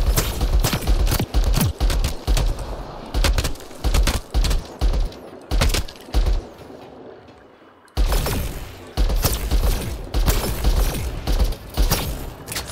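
Sci-fi weapons in the video game Mass Effect Andromeda fire in repeated loud bursts of rapid gunfire, with a short lull before another burst of shooting starts.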